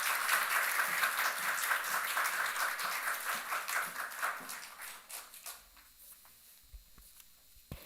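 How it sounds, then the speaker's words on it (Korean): A church congregation claps to welcome the pastor before a sermon, a steady crowd applause that gradually thins and fades out, leaving a few scattered claps and quiet room noise at the end. "이 시간 우리 박수로 강미양 목사님을 청해 보시겠습니다."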